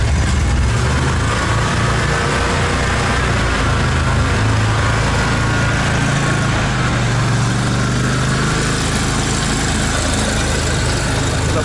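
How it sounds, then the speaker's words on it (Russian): Borus Extreme all-terrain vehicle driving in first gear of the low range, a loud, continuous low engine rumble with mechanical vibration, heard close from inside the cab and steady throughout. "Это скорость машины на первой передаче."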